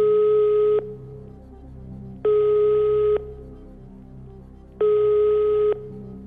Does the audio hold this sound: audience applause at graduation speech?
no